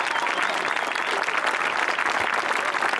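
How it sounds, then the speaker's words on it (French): Loud, sustained applause from a show jumping prize ceremony audience at the CSIO, a dense steady clapping that fills the whole moment without any talk. "je vous demande un tonnerre d'applaudissements"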